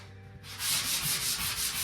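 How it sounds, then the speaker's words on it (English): Sanding blocks rub over drywall in a steady back-and-forth rhythm, about six close, scratchy strokes following a short quiet lead-in, with no talking. "these sanding blocks are going to save me a ton of time"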